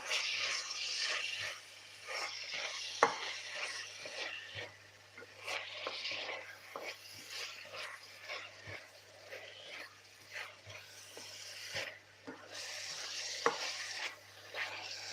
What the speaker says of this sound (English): Quite a lot of onion. I love onions. So just fry them together.